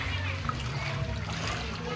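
Water splashes and sloshes steadily inside a room flooded after heavy rain, a continuous near wash of churning water, with children and other voices talking over it.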